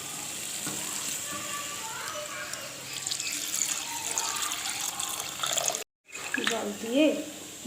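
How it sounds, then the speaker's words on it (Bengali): Water poured into a sizzling pan of chicken and potato curry, a steady hissing rush with frying crackle, a brief cut, then bubbling and stirring sounds with a voice speaking faintly. "এবার আমি এতে জল দিয়ে দেবো"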